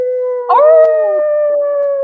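A person's voice imitates a wolf howl: one loud, close, sustained tone that swells and then holds steady for about two seconds, with no other sounds around it.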